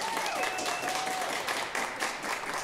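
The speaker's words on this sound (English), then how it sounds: "And then you will clap loudest for the one that you want to continue on to the next round." An audience at an improv-style showdown claps and cheers for the horror musical, a short burst of moderately loud applause with a faint whistle running through it.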